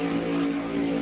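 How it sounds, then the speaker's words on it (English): Drag racing car doing a burnout at a turbo-versus-supercharger qualifying event, a loud, steady, droning engine roar that holds constant without break. "Thornton does his burnout."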